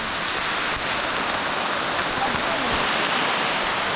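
Hail pelting down during a mountain hike near the Achipsinsky waterfalls, Krasnaya Polyana, Sochi, a dense, steady hiss of hailstones with occasional nearby impacts, loud and continuous.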